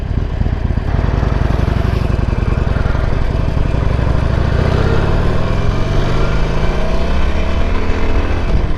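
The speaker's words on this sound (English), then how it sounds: "let's burn the carbon out of the bike" A motorcycle engine is held at a loud, continuous high rev, its tone climbing gradually over nearly nine seconds, close and dominant with no other sounds.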